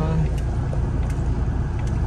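A car stuck on a road near a vegetable market rumbles with a steady, close, low engine drone throughout, with voices faintly present over it.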